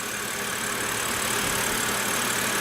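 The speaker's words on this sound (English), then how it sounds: "At the business end of the 325i, we find its 3-liter inline 6-cylinder." A 2006 BMW 325i's 3-liter inline six-cylinder idles steadily with the hood open, a smooth, even engine hum heard up close with no talking.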